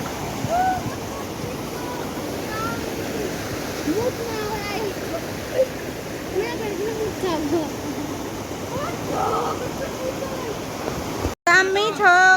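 A river rushes steadily by outdoors, a dense, even wash of flowing water close at hand, with scattered voices over it and a brief break near the end.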